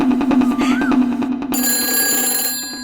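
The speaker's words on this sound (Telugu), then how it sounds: "ఫోన్ ఆగకుండా మోగుతూనే ఉంది" A telephone bell rings insistently in rapid repeated trills, loud and close, with a brief rising tone partway through and a bright sustained electronic chime taking over near the end.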